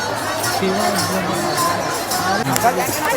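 Dense hubbub of a large crowd at a Shiv Mahapuran katha pandal in Balodabazar, with overlapping voices and chatter close around, continuous and fairly loud.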